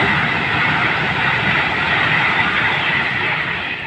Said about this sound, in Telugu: మనం వందే భారత్ ట్రైన్ వెళ్ళిపోతున్నాం అనమాట